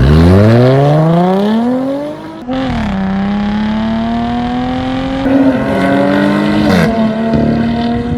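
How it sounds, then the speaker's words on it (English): A supercharged V6 in a Jaguar XF with a modified exhaust revs hard, climbing in pitch, drops briefly, then holds a loud, raspy, fluttery drone with further surges, close and without talk. "there's people on the internet who think the Jaguar V6 Supercharged is one of the best sounding engines ever."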